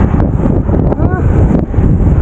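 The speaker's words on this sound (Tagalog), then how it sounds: "Grabe yung hangin. Nanunulak." Strong wind roars and buffets the microphone in a steady low rumble during a bicycle ride in Tagaytay, with brief faint voice traces mixed in.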